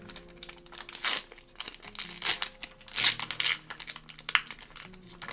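Package wrapping crinkles and tears during an unboxing, in a close, irregular series of rustling crunches and ripping bursts that rise and fall over several seconds, with no speech.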